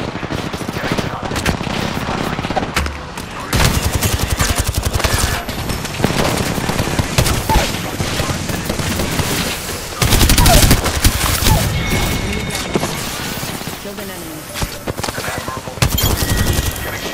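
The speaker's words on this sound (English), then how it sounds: "Getting shot." Sustained automatic gunfire rattles through a battle royale firefight as the player takes hits, loud bursts running nearly nonstop with heavier volleys and brief pauses.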